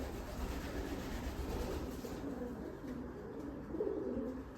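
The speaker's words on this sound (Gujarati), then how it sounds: "જો કબૂતર બધા." Pigeons coo inside a deep village stepwell, soft low murmuring calls repeating through a steady hollow ambience, no talking, with a slightly louder burst of cooing near the end.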